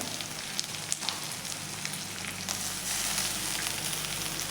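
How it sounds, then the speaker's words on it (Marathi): Finely chopped tomato tipped into onions sautéing in a pan for a mixed dal amti, giving a steady hissing sizzle that swells louder toward the end; no voices. "आता त्यामध्ये हे टोमॅटो बारीक कट करून घेतलेले आहे ते देखील आपण यामध्ये घालून घेऊयात"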